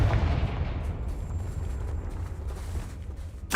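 A Confringo fire spell detonates in the Hogwarts Legacy video game, a booming blast at the start followed by a rumbling tail and another sharp burst right at the end.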